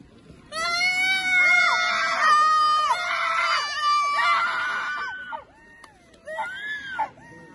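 Loud, harmonic screaming from several voices overlaps for about five seconds, then fades to a pause before a few shorter shrieks return.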